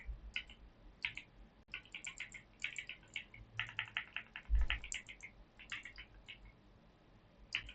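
Bursts of quick, light clicking keystrokes on a computer keyboard while commands are entered in an operating-systems lab, with short pauses between runs of typing and no talking.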